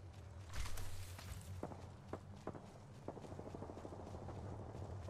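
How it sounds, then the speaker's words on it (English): Footsteps in the video game Apex Legends, a run of soft, quick steps close by, mixed into a steady game soundscape with a low hum underneath. "I hear the footsteps."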